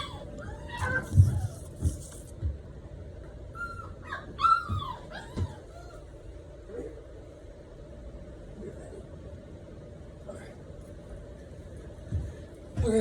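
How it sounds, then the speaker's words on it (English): Young Lab-mix puppy whimpering and letting out high yips and whines in short scattered bursts, fairly faint and close indoors, over a low steady hum. "I got a new puppy, so that's what you hear in the background."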